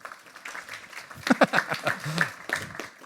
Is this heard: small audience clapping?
yes